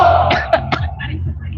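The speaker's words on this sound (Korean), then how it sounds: "전 기침 계속하고." A few short, close coughs or throat-clearing bursts, sharp and separated, against a low steady hum.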